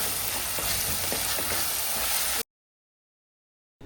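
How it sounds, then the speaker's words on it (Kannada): Chopped garlic, curry leaves and ginger-garlic paste sizzle and fry in hot oil for chicken fry, a dense steady crackle for about two and a half seconds before cutting to silence, with a brief return at the end. "ಇದಕ್ಕೆ ಸಣ್ಣದಾಗಿ ಹಚ್ಚಿಕೊಂಡ ಬೆಳ್ಳುಳ್ಳಿನ ಹಾಕ್ಕೊಳ್ಳಿ, ಹಾಗೆ ಕರಿಬೇವು, 1 ಸ್ಪೂನ್ ಶುಂಠಿ ಬೆಳ್ಳುಳ್ಳಿ ಪೇಸ್ಟನ್ನು ಹಾಕಿ ಸ್ವಲ್ಪ ಫ್ರೈ ಮಾಡಿಕೊಳ್ಳಿ."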